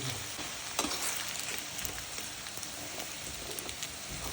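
Arbi (taro root) frying in hot oil in a kadai gives a dense, continuous sizzle with scattered crackles and pops, close and steady, with no talking.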